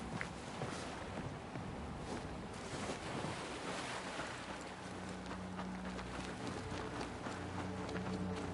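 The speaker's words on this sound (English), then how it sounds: "It looks like real ocean waves." Ocean waves in the video game Banishers: Ghosts of New Eden, a steady, full wash of surf with a continuous rushing, slightly windy texture.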